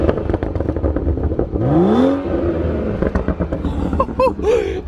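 A BMW 435i with a custom valvetronic axle-back exhaust revs hard, its note sweeping up in a loud rising blare before settling, then several sharp blips and crackles follow close by.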